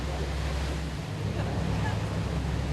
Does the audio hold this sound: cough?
no